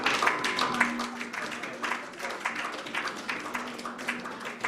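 A conference crowd claps together in a sustained round of applause. Individual claps can be picked out, and voices talk through the clapping as it slowly thins.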